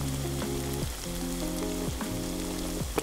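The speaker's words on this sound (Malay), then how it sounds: "Tumis sampai pecah minyak dan juga naik bau dan sampai garing sikit." Sambal chilli paste sizzles and crackles steadily in hot oil during stir-frying, a dense close frying hiss with faint rhythmic stirring scrapes and no talk.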